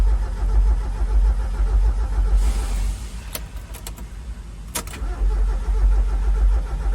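A 1994 Mazda Miata, parked for eleven years and suspected of getting no fuel, cranks over without catching; a steady churning starter-and-engine rumble runs throughout, loud and close, with a few brief clicks midway.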